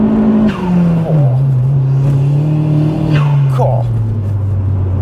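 A 404bhp Vauxhall Astra VXR pulls hard in second gear, its engine note rising loudly and sweeping through revs from close inside the car, with a brief tyre chirp and people talking over it.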